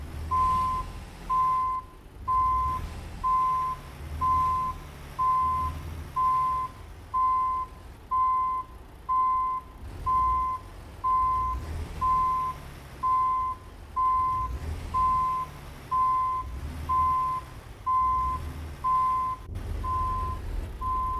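In American Truck Simulator, a truck's reversing alarm beeps steadily and evenly for about twenty seconds over a low engine rumble, with no talking.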